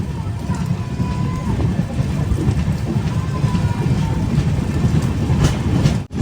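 The Mangalore–Thiruvananthapuram Eranad Express rolls past close by on a Kerala rail line, a loud, continuous rumble and rattle of wheels and carriages that fills the whole stretch.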